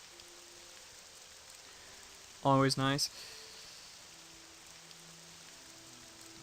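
Steady rain hiss from the video game Morrowind, falling continuously through daytime gameplay, with a short spoken phrase briefly rising over the soft, even wash.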